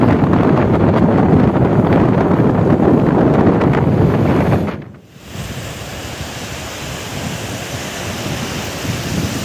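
Strong wind buffets the microphone over crashing surf at a remote beach as the tide rises, a loud continuous roar that dips briefly midway and then resumes slightly softer.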